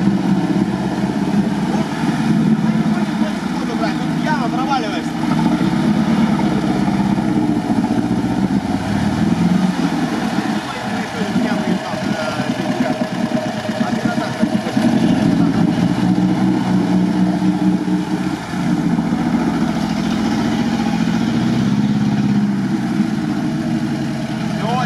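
A single-cylinder engine in a UAZ off-road vehicle runs loudly and nearby for a long stretch, a rough throbbing idle and labouring rumble that swells and eases.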